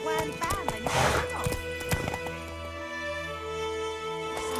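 Roach, a horse in The Witcher video game, clip-clops in a quick trotting rhythm close by, with a whinny and some game speech over the hooves.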